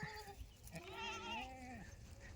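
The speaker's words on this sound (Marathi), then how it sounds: "ती जी शेळी दाणे खाते तिला मी आता आणतो" A goat that feeds on grain gives one clear, wavering bleat close by, with a brief rise and fall in pitch and quiet surroundings.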